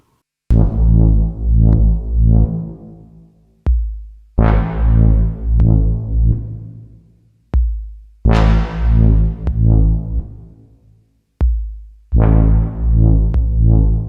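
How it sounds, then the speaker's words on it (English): A deep, growling snarl repeats four times, each burst swelling loud then trailing into a long, washy reverb tail before the next one hits. "I recorded this snarling sound and ran it through a big reverb"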